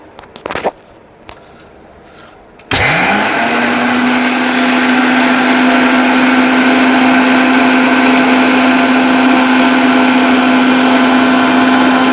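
Electric mixer grinder blending roasted puffed rice: after a few brief knocks the motor starts abruptly and runs with a loud, steady high whine for about nine seconds.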